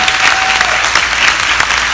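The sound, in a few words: audience applause for graduating class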